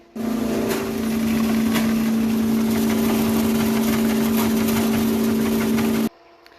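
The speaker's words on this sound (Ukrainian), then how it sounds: "Покажу, як в нас працює віялка." A winnowing machine runs in a farm warehouse with a steady, loud mechanical drone and a constant low hum that start abruptly, hold for about six seconds, then cut off, with no voices.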